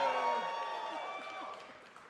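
An audience at a liberal arts forum cheers and rumbles, a loud burst of crowd noise at the start that fades to a lower murmur, with voices mixed in.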